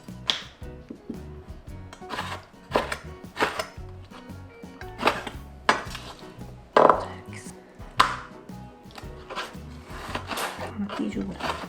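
A knife cuts squid on a board for sweet and sour squid: a series of sharp, irregular chopping thumps, fairly close and distinct, with a voice speaking intermittently between the cuts.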